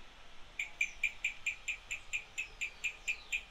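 A cuico frog from Ecuador calling alone, a rapid regular series of about fourteen bright chirping notes at an even pulse, clear and fairly close with a faint hiss behind.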